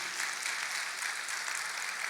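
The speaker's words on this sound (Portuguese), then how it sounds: "Vamos aplaudir ao Senhor." Steady, dense applause from a church congregation praising the Lord during a Portuguese sermon, filling the whole stretch evenly at moderate loudness with no voices over it.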